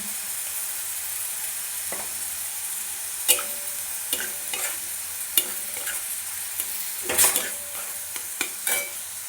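Onion frying in a pan with ginger, garlic, chopped green chilli and turmeric, a soft continuous sizzle broken by scattered scrapes and clinks of a spoon stirring against the pan.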